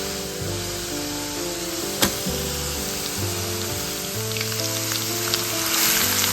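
Beef with ginger and crushed garlic sizzles and spits in a hot pan while being stirred, a steady bright frying hiss with an occasional utensil knock, under background music.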